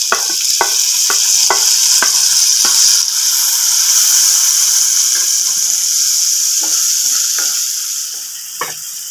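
Finely chopped tomato hits onions frying in a pan, giving a loud, close, steady sizzle with intermittent scraping taps from stirring as a mushroom masala cooks.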